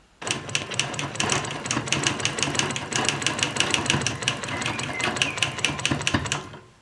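Sewing machine quilting a block along a ruler, a rapid even train of needle clatter running steadily for several seconds with slight pauses near the end, close and alone.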